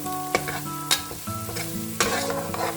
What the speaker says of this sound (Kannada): ಮೆಣಸಿನ್ಕಾಯಿ, ಬೆಳ್ಳುಳ್ಳಿ ಮತ್ತು ಹೆಚ್ಚಿಗೆ ಹಾಕಿರೋವಂಥ ಶುಂಠಿ ಅದೇನಿದೆ ಅದಷ್ಟನ್ನು ಸ್ವಲ್ಪ ಬಾಡಿಸ್ಕೊಳ್ಳಿ ಈ ಥರ ಎಣ್ಣೆಯಲ್ಲಿ